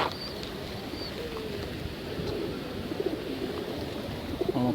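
Wild pigeons coo softly while bathing outdoors, low murmuring calls under a steady wash of splashing and ambient noise. A few higher chirps come through faintly.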